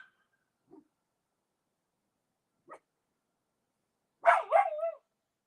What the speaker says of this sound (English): Sorry about the barking, y'all.